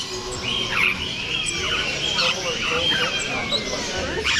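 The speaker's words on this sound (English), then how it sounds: "they got all kinds of birds here" Exotic finches and parrots chirp and tweet in a busy, continuous chorus at an indoor bird expo. People talk in the background.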